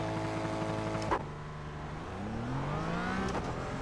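Porsche Cayman GT4 in the iRacing sim at a standing start at Road Atlanta: a steady held-throttle drone, then an upshift and the engine note climbing again as the car pulls away, loud and close with no talk.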